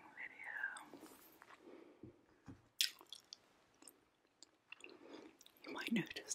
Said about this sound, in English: You might notice that I'm chewing some gum today.